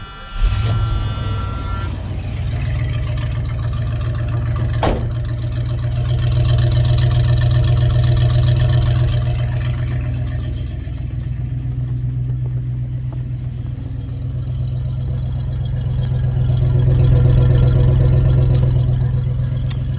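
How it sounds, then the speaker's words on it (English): A 1976 Ford F-150 engine idles steadily on a cold morning after a cold start, a loud, close, even low rumble with a sharp click early on and a slight rise in revs toward the end, with no talking. "So this is how it starts once the fuel pump has pressure in it."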